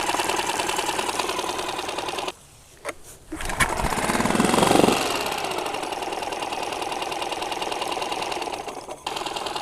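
A Mercury/Tohatsu 4-stroke outboard of 4 to 6 hp idles with a steady, rapid mechanical chatter close by, dropping out briefly twice before settling back into its even run.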